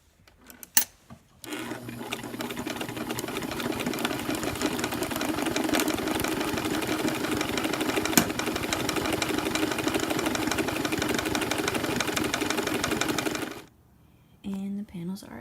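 A sewing machine stitches the extended panels of a pair of shorts, its steady mechanical hum and rapid needle chatter running continuously for about twelve seconds after a few brief handling taps, then stopping abruptly.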